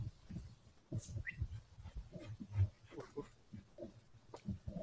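A dog that was sprayed by a skunk makes faint low snuffling and grunting sounds outdoors in a garden, with irregular soft whimpers, close by and quiet.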